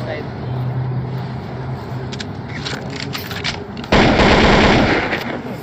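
A rapid burst of loud gunfire crackles over a noisy, rumbling background, with speech mixed in.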